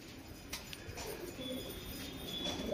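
Abluk pigeons coo faintly in a soft, continuous low burble set against a hazy background, quiet and somewhat distant, with no talk.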